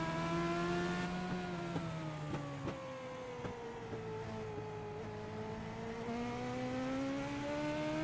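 Race cars lapping Texas Motor Speedway during a track night: engines drone steadily from a distance, pitch rising and falling as the cars sweep through the turns, with no talking.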